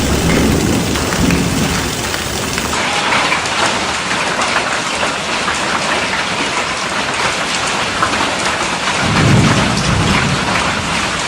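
A heavy hailstorm in the UAE with pounding rain and rolling thunder, a dense, steady roar of hail and rain on surfaces throughout, with a deeper rumble of thunder swelling near the end; no voices.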